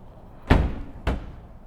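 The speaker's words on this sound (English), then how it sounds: "And then close the top as well." The top of an Aliner pop-up camper is lowered and shut, giving two solid, close thuds about half a second apart, each followed by a short fading rumble.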